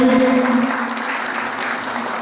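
Audience applause at a stage event: a burst of loud clapping from a crowd that stays dense and steady throughout, with a brief tonal note at the start.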